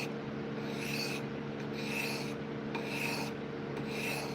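Blade being sharpened on sandpaper with steady back-and-forth rasping strokes, about one per second, close and fairly quiet, with no talk.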